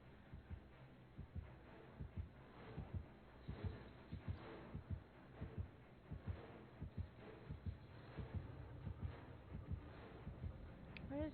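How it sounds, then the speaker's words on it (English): A thumping heartbeat pulses near a pursuer in a horror video game, steady paired beats repeating throughout at moderate loudness over a faint hum, with no talking. "Does he literally have, like, heartbeat? You can hear him everywhere?"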